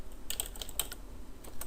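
Quiet, close typing on a computer keyboard: a short run of light key clicks in two small bursts, with no voices.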